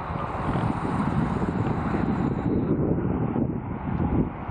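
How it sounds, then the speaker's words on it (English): Strong gusts of wind buffet the microphone outdoors in San Antonio, Texas, in a constant, loud, rumbling roar. There is no speech. "I don't know if you're gonna be able to hear me, it's so windy"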